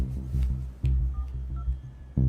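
A phone keypad gives off a quick run of evenly spaced touch-tone beeps as a number is dialed, loud and close with no talking.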